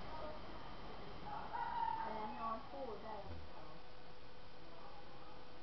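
A rooster crows loudly and close among village chickens, one drawn-out call rising and falling in the middle, with people talking around it.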